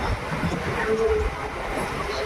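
Low rumble of a train halted at Thuravoor railway station, with a faint screech of wheels over steady background clatter.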